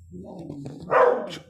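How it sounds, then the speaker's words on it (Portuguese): A dog barks loudly in a short burst indoors near a person teaching a physics lesson, the barks rising sharply over background speech. "O cachorro ficou doido aqui."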